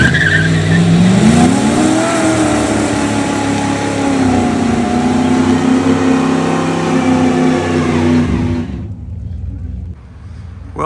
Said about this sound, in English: is that rear end gonna stay under the Durango when we do a massive burnout?